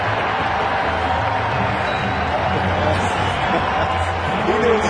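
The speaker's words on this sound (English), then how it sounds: "there's a nice round of applause out in the left field corner" Baseball crowd applauding from the left field corner of the stadium after a catch, a steady wash of distant clapping and crowd noise in the ballpark during an Oakland at Anaheim game.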